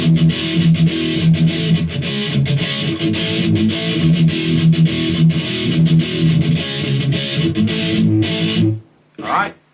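Distorted electric guitar plays the verse riff of a pop-punk song, a driving palm-muted pattern with regular rhythmic chugs over a backing track, loud and close, ending with a short trailing note.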